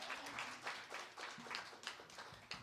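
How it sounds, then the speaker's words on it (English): Applause from an audience, steady clapping for a few seconds at moderate distance, with no voices over it. "How about one more round of applause for Mr. Hayes there?"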